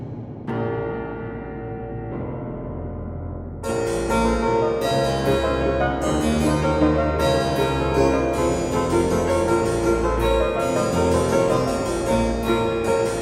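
Ornate orchestral music with chiming bell-like tones, a Deepwoken track, plays alone, starting sparse then swelling into a fuller, steady arrangement.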